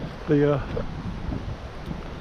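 Gusty wind on a hiking trail on the Pinhoti Trail, buffeting the microphone as a steady low roar, with a person speaking briefly over it.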